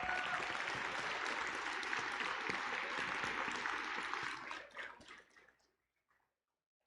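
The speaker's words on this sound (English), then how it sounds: "Let's give them a round of applause." A crowd at a high school FTC robotics championship opening ceremony applauds steadily in a large hall, the dense clapping holding for several seconds before tapering off and stopping abruptly.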